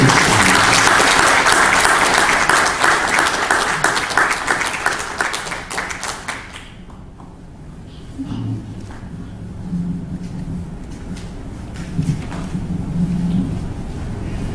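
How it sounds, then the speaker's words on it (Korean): Congregation applause at a Presbyterian church elder ordination thanksgiving service, loud, dense clapping for about seven seconds that fades into quiet room tone with faint low murmurs. "박수로"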